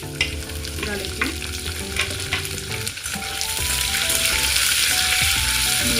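Green chillies fry in hot oil with garlic that has already turned red, giving a steady crackling sizzle that grows a little louder and denser toward the end, with occasional stirring scrapes and no talking.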